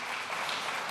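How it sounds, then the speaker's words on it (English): An audience claps for Angela Merkel at a 2009 German election campaign rally, a short burst of dense, sustained applause from a crowd. "But one thing wins Merkel applause here."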